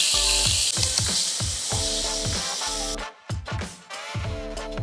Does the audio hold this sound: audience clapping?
no